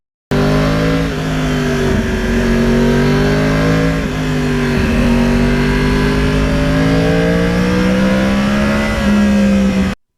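A 2009 Yamaha R1 crossplane motorcycle's exhaust drones loud and continuously at close range, its pitch wavering and easing slightly as the throttle backs off. No one speaks.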